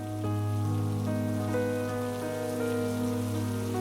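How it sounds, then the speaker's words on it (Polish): Heavy rain pours down in a steady, dense hiss while a sustained tonal drone of music hums beneath it. "Z nieba lunął deszcz."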